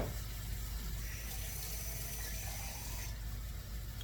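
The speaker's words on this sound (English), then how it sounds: "Now I'm going to add some water" Water poured from a tap into a pan of thickened meatball gravy, a steady rushing splash that runs loud and unbroken throughout.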